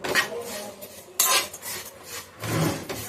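A utensil scrapes and stirs ingredients roasting in a pan while making homemade atukula (flattened rice) cereal for a baby: continuous close scraping and rustling with rhythmic strokes, no speech.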